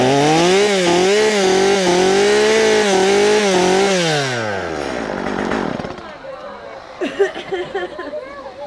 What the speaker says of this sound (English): You got the chainsaw.